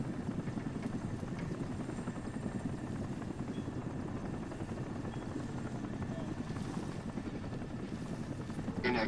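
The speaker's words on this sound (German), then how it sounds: "Da höre ich einen Helikopter, das gefällt mir überhaupt nicht." Helicopter rotor chopping steadily through the whole stretch in the video game Crysis, a continuous loud thrum that holds its level from start to end.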